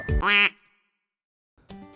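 A goose honks twice in a quick loud burst at a farm enclosure shared with rabbits, followed by a silent pause and then a further nasal call starting near the end.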